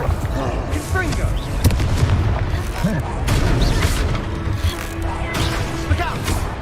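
Explosive spell blasts boom through a Hogwarts Legacy battle, dense rumbling impacts layered with combat noise and game music, loud and continuous, with shouted voices mixed in.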